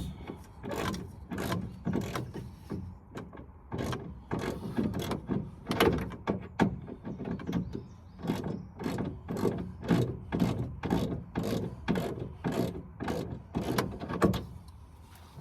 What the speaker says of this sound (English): we're just beginning to take the window out